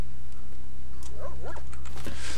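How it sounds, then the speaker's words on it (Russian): Dogs in the S.T.A.L.K.E.R. video game yelp and whimper in a few short, mid-distance bursts over a constant low game hum. "Они на собак отвлеклись, отлично."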